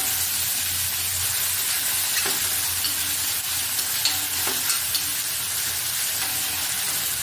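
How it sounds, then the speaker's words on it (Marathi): Peanuts, onion and finely chopped tomato sauté in hot oil, giving a steady broadband sizzle with occasional scrape-and-stir clicks from a spoon, close and continuous, no voices. "शेंगदाणे, कांदा, बारीक चिरलेला टोमॅटो, सर्व मिश्रण चांगले परतून घ्यायचे आहे।"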